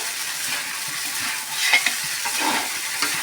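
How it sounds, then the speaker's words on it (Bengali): Flattened rice pulao with coriander leaves is stir-fried in a pan, a loud close sizzle with scraping strokes from a spatula and a few sharper clinks midway, with no voices. "এটাকে ভালো করে খুব সুন্দর করে ভেজে নেব।"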